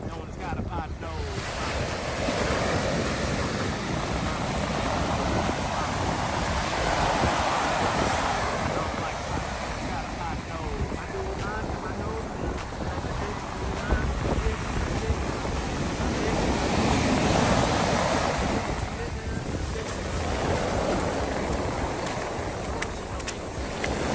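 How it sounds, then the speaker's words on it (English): Ocean surf surges and breaks on the shore in long rolling swells, loud and close, with heavy wind buffeting the microphone and occasional voices in the background. "Look at the ocean."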